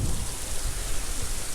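Heavy rain pours down at a beach, a steady dense hiss of drops with no pause or change.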